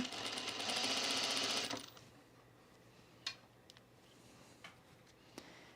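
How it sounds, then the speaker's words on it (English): A sewing machine stitches a dress for under two seconds in a loud, fast whirring run, then stops, leaving faint clicks and taps in a quiet room. "Lately, my machine feels like a little bit like it's sewing through molasses"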